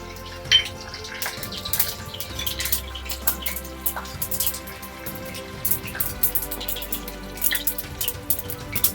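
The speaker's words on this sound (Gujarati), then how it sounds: "પછી થોડા લીમડાના પત્તા નાખી દઉં છું." Curry leaves dropped into hot oil with cumin and sesame seeds pop and crackle in scattered, irregular bursts over a low background hum.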